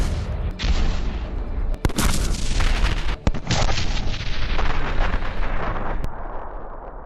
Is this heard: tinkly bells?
no